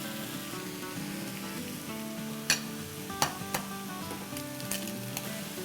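Chopped vegetables fry in a pan for a vegetable frittata omelet: a soft, steady sizzle close by, punctuated by a few sharp clicks and taps of a utensil against the pan, with no talk.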